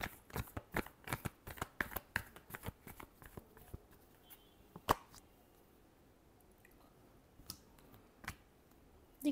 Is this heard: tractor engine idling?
no